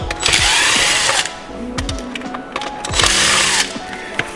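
Small screws being backed out of a Traxxas RC car motor mount with a power driver, two loud bursts of whirring motor separated by quieter clicks and handling noises, close up and without talk.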